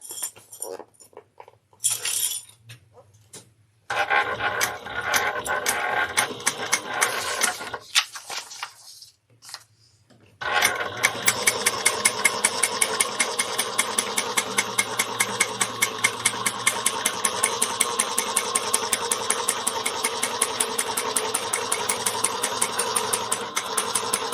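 A sewing machine top stitches a handbag an eighth of an inch from the edge, starting in short stop-and-go bursts and then running as a steady, fast, rhythmic mechanical chatter close by.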